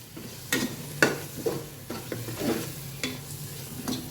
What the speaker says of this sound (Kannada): ಸ್ವಲ್ಪ ಹೊತ್ತು ಆ ಮಸಾಲದೊಟ್ಟಿಗೆ ಈ ಪೇಸ್ಟ್ ಎಲ್ಲ ಹೊಂದ್ಕೊಳ್ಳಿ. ಒಂದು 2 ನಿಮಿಷ ಫ್ರೈ ಮಾಡುವ.